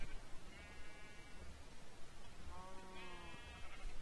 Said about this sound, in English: I switched out the black sheep for this cheeky white sheep